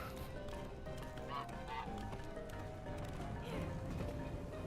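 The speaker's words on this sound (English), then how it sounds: "I think I'm hearing a swan? Or is that just a duck?" Honking waterfowl calls, goose- or duck-like, from the game The Unfinished Swan, repeating over a busy, continuous background of game music and ambience at moderate level.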